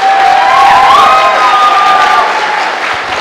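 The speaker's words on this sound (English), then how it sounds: "Can you give her a massive round of applause?" Audience at a students association conference celebration applauding and cheering loudly, with sustained crowd noise and a bright whistle-like tone gliding over the top throughout.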